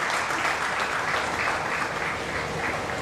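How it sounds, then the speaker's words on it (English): Sustained audience applause for a speaker at a no-code website and e-commerce conference session, a dense, even roar of clapping from a large hall. "Can you please have a round of applause for Aditi?"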